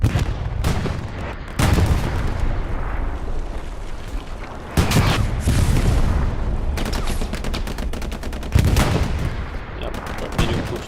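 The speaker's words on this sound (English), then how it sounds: "Another bombing run." Bombing-run explosions in the WWII shooter Hell Let Loose on console, with heavy booming blasts rolling in overlapping waves over sustained gunfire, loud and dense throughout.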